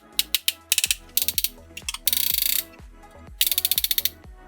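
The oversize Zeus Magic Toy ZS-01 Shockwave transformer figure's arm joint clicks sharply as it is rotated, with rapid bursts of close ratcheting ticks separated by brief pauses, crisp and alone.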